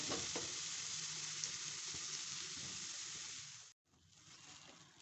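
Cornflour and salt sizzle and get stirred in a pan for a cheese sauce, a soft, steady frying hiss with light scraping that briefly cuts out and then resumes more quietly.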